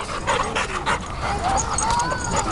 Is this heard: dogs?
yes